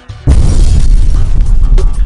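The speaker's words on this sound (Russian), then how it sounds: "Массовые вот эти вот аварии, взрывы, там взрывающиеся бензоколонки, фуры, там автобус переворачивается" A loud, close booming explosion crash in the racing video game Adrenalin 2: Rush Hour, starting abruptly and rumbling on with a heavy low roar.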